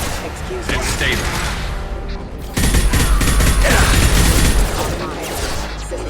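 In a video game, gunfire hammers the player's vehicle as a dense, continuous clatter of impacts under loud mechanical noise, rising sharply partway through.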